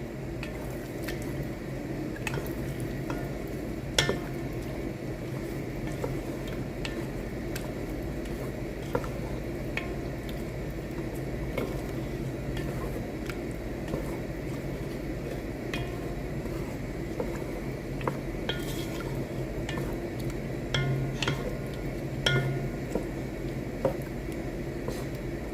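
Creamy red pasta sauce stirred in a pan, with soft continuous squishing and light sizzling plus occasional spoon taps against the pan, steady and close with no talking.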